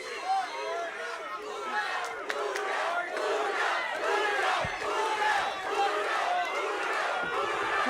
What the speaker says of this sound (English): Julio getting a lot of encouragement from the crowd